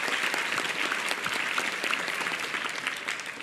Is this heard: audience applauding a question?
yes